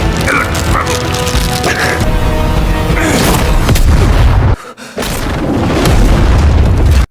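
Explosions from Karasu's attack in the Yu Yu Hakusho II video game: dense, loud booming blasts over continuous game noise, with a brief dropout midway before the rumbling resumes.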